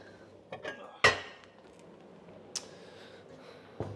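A fancy serving bowl for Thai yellow chicken curry set down on a table, giving a sharp ceramic clunk followed by a couple of lighter clinks and taps, fairly close, with quiet room noise between the knocks.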